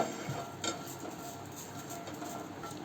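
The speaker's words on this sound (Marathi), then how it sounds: "मिरच्या भाजून घेऊ" Green chillies roasting in a hot frying pan for traditional village kharda chicken. A faint, steady sizzle runs throughout, with small clinks and stirring taps of a utensil against the pan.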